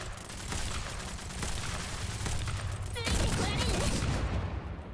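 Gunfire crackles through a Girls Frontline battle as dense, rapid bursts of shots under continuous loud combat noise, with a sharper volley near the end.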